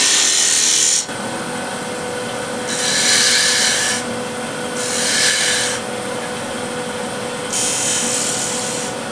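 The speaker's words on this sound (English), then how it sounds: "So spindle gouge." Spindle gouge cutting a wooden wheel turning on a lathe, with close, loud bursts of hissing shaving that start and stop in an irregular rhythm over a steady motor hum.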